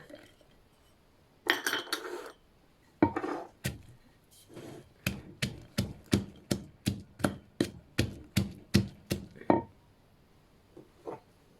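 A pestle pounds garlic and shallots in a mortar for a Thai-style spice paste. About a dozen sharp, evenly spaced thuds come close and loud in a steady rhythm, after a few irregular knocks at the start.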